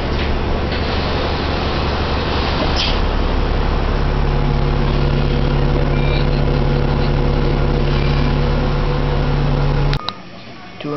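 Loud steady engine drone inside a bus, with a constant low hum and tonal whine running continuously, then cutting off abruptly near the end.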